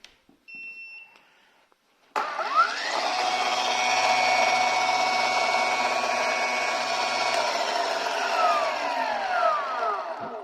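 A Vitals AKZ 3604a cordless battery saw switches on after a couple of short electronic beeps, then whines loudly and steadily up close for about eight seconds, its pitch sweeping up at startup and easing down near the end.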